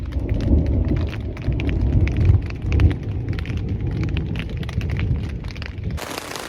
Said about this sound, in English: Thunder and Thunder Bay is rumbling into the bay.